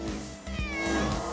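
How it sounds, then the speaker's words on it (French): A cartoon cat meows a few times, close and clear, in short plaintive calls. "C'est le chat de ma grand-mère."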